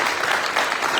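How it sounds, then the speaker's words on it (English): A crowd at a community friends gathering clapping in a round of applause, a short burst of steady, full clapping heard close. "So let's give a round of applause to the city."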